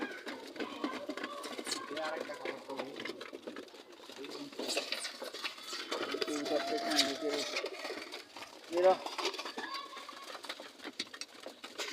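Domestic pigeons, including a pair kept with their chicks, coo softly against a busy, continuous backdrop of a person talking nearby.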